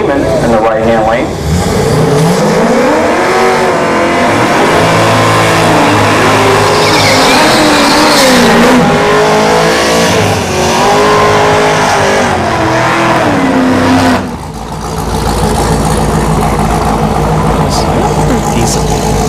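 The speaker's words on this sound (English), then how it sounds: "Some nice burnouts" A 2014 Cadillac CTS-V does a burnout and launches at an Orlando Speed World drag race, its engine roaring loudly with rising and falling revs and tire squeal, then cutting off abruptly near the end.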